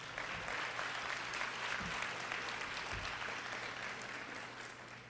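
Audience applause at a Houston ISD gathering, steady clapping from a sizable crowd heard at moderate distance, fairly even throughout with a low hum beneath and a slight fade toward the end.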